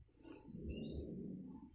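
Sooty-headed bulbuls (trucukan) call near a house, with soft chirping whistles above a steady low background, fairly faint and brief.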